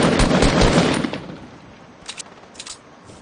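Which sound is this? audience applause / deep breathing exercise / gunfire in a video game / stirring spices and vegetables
gunfire in a video game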